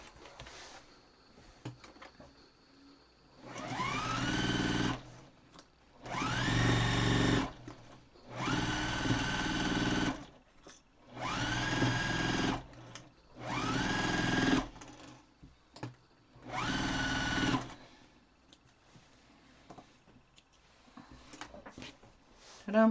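A sewing machine stitches a quilt block in six separate runs of a few seconds each, its motor whirring up in pitch at the start of each burst, with quiet handling between runs.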